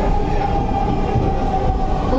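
A metro train runs with a steady, loud rumble and constant wheel-on-rail noise, heard close with no talking.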